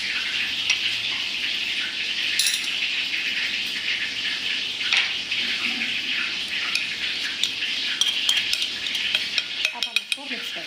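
Spices are stirred and mixed into an egg and chicken ball mixture in a bowl, giving continuous close scraping and squelching with occasional utensil clinks against the container.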